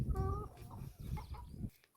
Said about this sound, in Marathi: ऑरेंज आणि ब्लॅक कोंबड्या बरे शांत असतात हा कोंबड्या शांत आहेत आणि कोंबडेच लय आगाव आहेत